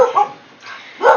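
Two bursts of dog barking, one early and one at the end, with a quiet gap between, heard from a short distance away.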